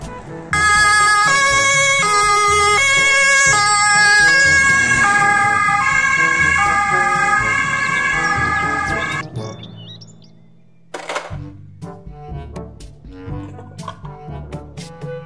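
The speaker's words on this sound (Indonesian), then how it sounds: "ambulans." A toy ambulance siren wails steadily for several seconds with a pulsing electronic tone, then cuts off, followed by scattered clicks, toy noises and handling sounds.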